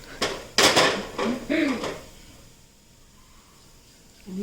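A semolina and gram flour pancake tossed and flipped in a pan at home, giving a few sharp clattering metal knocks close by amid brief voices, then settling into a quiet low hiss.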